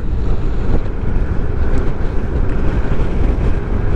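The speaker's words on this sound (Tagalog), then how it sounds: "Medyo malamig at malakas ang hangin." Strong wind roars steadily across the microphone during a night ride from Laguna to Sorsogon, a continuous heavy rumble with no voices.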